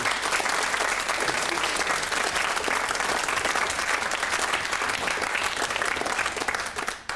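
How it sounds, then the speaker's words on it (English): A studio audience at a 1991 television quiz show gives a sustained round of applause, dense and loud clapping from many people that holds steadily before tapering off at the very end. "I think we should have a round of applause"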